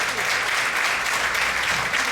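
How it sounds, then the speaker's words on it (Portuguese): A church congregation applauds during a miracle service, steady broadband clapping from a full room, with a few voices mixed in under it. "ofereça um aplauso ao Senhor"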